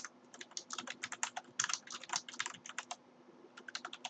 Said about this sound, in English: Let me just type that in right here.